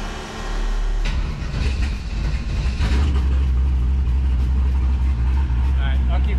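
A twin-turbo LS-swapped Ford Fairmont engine cranks and catches around the one-second mark, then settles into a loud, rough, lumpy idle that runs steadily to the end, close to the microphone.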